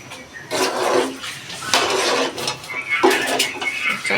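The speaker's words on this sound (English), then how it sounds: "Let me give it a stir." Utensil scraping and clinking against a pot while stirring food during late-night home cooking, a few bursts of metallic scraping with brief pauses, close and fairly loud.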